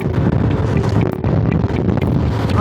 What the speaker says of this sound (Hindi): इतनी तेज विंड चल रही है कि लिटरली मेरी आवाज़ भी आपको अच्छे से नहीं आएगी।